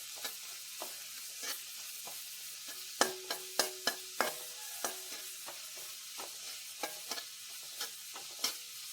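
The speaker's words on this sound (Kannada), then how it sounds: "ಈರುಳ್ಳಿ ಚೆನ್ನಾಗಿ ಬಾಡಬೇಕು, ಕೆಂಪು ಕಲರ್ ಆಗೋದು ಬೇಡ, ಅಂತ ಕಲರ್ ಸ್ವಲ್ಪ ಚೇಂಜ್ ಆದರೆ ಸಾಕು. ಒಂದು ಟ್ರಾನ್ಸ್ಪರೆಂಟ್ ಆಗಿ ಕಲರ್ ಬರ್ತಲ್ಲ, ಅಲ್ಲಿವರೆಗೆ ಇದನ್ನು ಫ್ರೈ ಮಾಡಬೇಕು" Sliced onions frying in a pan for capsicum egg bonda, a quiet background sizzle broken by repeated sharp clinks and scrapes of a spatula against the pan, some in quick bursts.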